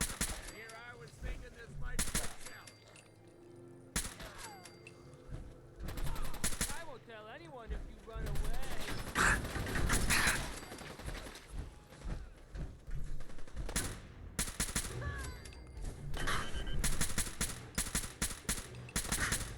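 Gunfire in Fallout 4's Nuka World, bursts of automatic fire and single shots in irregular volleys with brief gaps, close and loud, with a voice heard briefly between shots.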